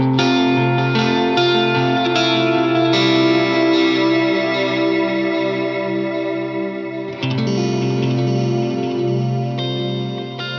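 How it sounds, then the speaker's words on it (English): Electric guitar run through a Line 6 Helix set to dotted eighth and quarter note delays, sustained chorus-like chords layered with overlapping echoes, steady and loud throughout, a chord change near the end, no voices. "My next snapshot is my dotted eighth and quarter note delay"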